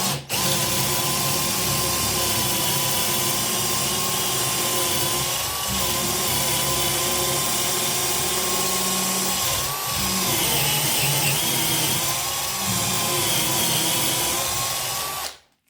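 Parkside PWBSA 12 A1 cordless angle drill boring a hole with a 67.5 mm bit, a loud continuous whining motor with slight pitch dips under load, close and without talk.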